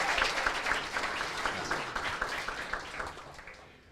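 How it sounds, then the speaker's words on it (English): Applause from a gala audience at a formal black tie event, a crowd of hands clapping briskly at first, then tapering off and fading to quiet over a few seconds, with no speech over it. "Let me know by a round of applause or not."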